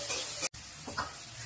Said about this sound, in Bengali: এবার একদম ভাজা ভাজা করবো।